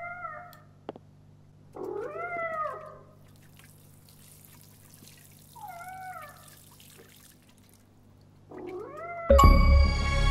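A cat in Life is Strange Double Exposure gives four drawn-out, wavering meows spaced a couple of seconds apart over a faint steady hum, with a sudden louder noise burst at the end.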